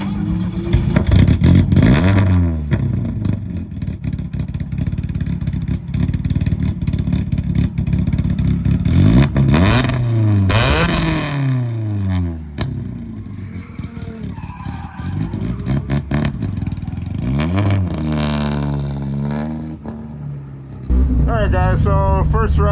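A gold Volvo 740 running drift laps on a course, its engine revving up and down in repeated surges with tire squeal and skidding, loud and close from inside the car, with occasional talk.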